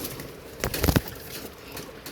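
Royal teddy pigeons in a breeding loft, a brief close burst of cooing and wing movement around the middle, then quiet loft ambience.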